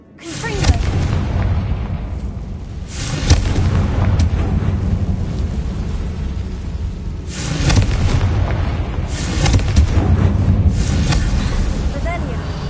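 A Confringo fire spell bursts in a Hogwarts Legacy tomb, landing as loud booming blasts near 3 and 8 seconds over a dense, rumbling game soundscape, with voices talking over the action.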